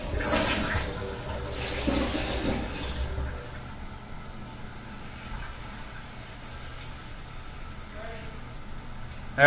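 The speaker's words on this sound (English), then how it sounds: "Go ahead and flush it one more time when it's ready." A toilet flushing in a Family Dollar store restroom in Sheboygan, Wisconsin, with water rushing loudly for the first few seconds and then settling into a steady, quieter refill hiss while someone speaks briefly.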